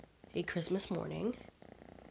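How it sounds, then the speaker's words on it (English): A cat purrs softly in the background while a person talks over it throughout; the low purr stays faint under the voice. "I have my cat, so do apologies if you hear purring in the background."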